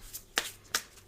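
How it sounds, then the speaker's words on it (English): Tarot cards shuffled by hand, two crisp riffling flutters about a third of a second apart, close and quiet, with no talking. "Okay, so I'm going to shuffle"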